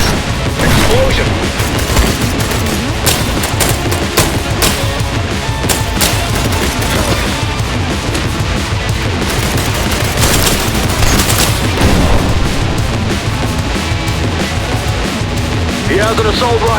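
Dense, continuous assault rifle gunfire in an I Am Your Beast video game level, rapid loud bursts layered with booms and crashes that stay relentless throughout, with no pause in the shooting.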